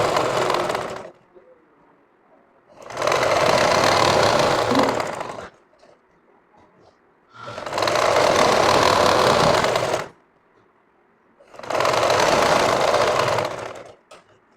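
A sewing machine stitches thick elastic onto pajamas in three long, loud bursts of rapid mechanical clatter, with quiet pauses between them, the machine close by.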